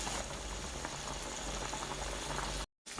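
Fish pieces simmer in a covered pot, a low steady bubbling rumble with a soft rattle that runs continuously before cutting out briefly near the end.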